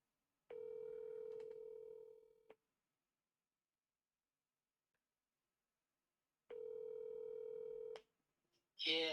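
A telephone tone sounds while a call is placed: two long, steady electronic tones separated by a few seconds of silence, with a brief voice right at the end.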